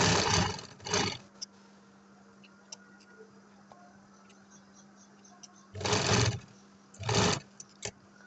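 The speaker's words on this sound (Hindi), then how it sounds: "बिल्कुल ढीले हाथ की मदद से हम ये बहन की सिलाई लगाएंगे।" Sewing machine stitching a hem along the neckline of a kurta, running in two short loud bursts at the start and two more near the end, separated by a low hum and faint ticks.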